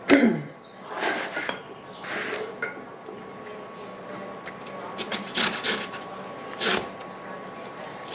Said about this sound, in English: Now I'm going to zest.